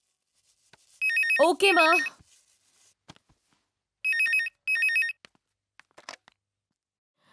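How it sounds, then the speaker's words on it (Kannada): Telephone ringtone sounds in two bursts of bright electronic trills, close and loud, separated by a gap, with someone speaking briefly between them and faint handling clicks afterward. "ಫೋನ್ ರಿಂಗ್ ಆಗ್ತಿದೆ, ತೆಗಿಯಮ್ಮ."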